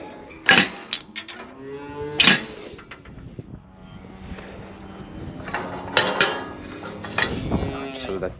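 Cattle gather at a round feeder with silage on a farm and give several loud, drawn-out moos, spaced irregularly, with some metallic clanking between calls.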